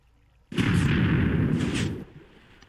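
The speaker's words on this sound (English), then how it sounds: "So you hear the TNT," A TNT block detonates in the Minecraft video game, a single loud, dense blast that bursts in suddenly, roars steadily for about a second and a half, then cuts off to quiet.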